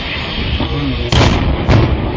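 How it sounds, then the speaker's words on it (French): A butane gas cylinder on a gas-converted vehicle explodes after a collision, giving two loud, close bursts about half a second apart over a dense, roaring background. "Un véhicule de gaz percute un autre et la bouteille de gaz s'explose avec une puissance inimaginable."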